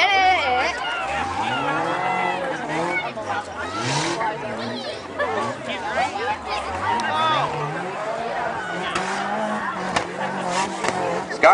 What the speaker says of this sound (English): Scott Ramey in the Honda car.